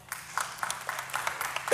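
Scattered audience clapping during a church sermon: a few brief, uneven claps close together that never build into full applause and fade almost at once.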